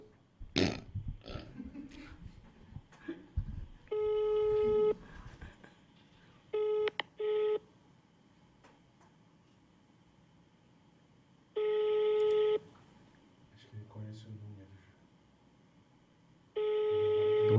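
A phone call tone sounds in steady repeating bursts of several seconds each, loud and close, with gaps of quieter room noise and some brief knocks and voice sounds between them.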